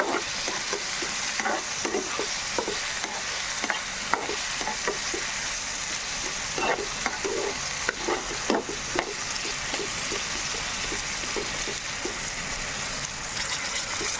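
A potato and fenugreek curry is stirred in a pan, with a continuous bright sizzle and repeated soft scraping and tapping strokes of a spoon, close and steady for the whole stretch.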